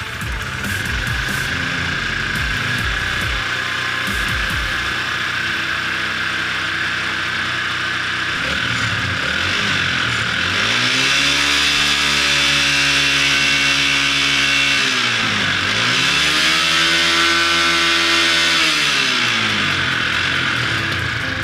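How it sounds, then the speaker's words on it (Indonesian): A motor under overheating trouble, with a suspected faulty head gasket, idles steadily, then its throttle is opened twice, each rev rising and falling in pitch, loud and close with no talk. "Kita coba naikkan gasnya."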